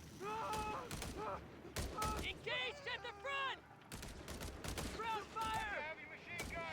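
Machine gun and rifle fire in the strategy game Company of Heroes 3, repeated bursts of sharp shots at a moderate distance, heard under steady commentary from casters talking throughout.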